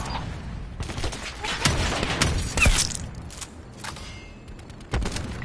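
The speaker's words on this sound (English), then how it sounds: "Sniper helo in your AO. Establishing sharpshooter overwatch." Gunfire and heavy impacts from a sniper helicopter in Call of Duty Black Ops 4, with bursts of shots and booms scattered across a dense, loud battle mix, a sharp thump near the middle and another late.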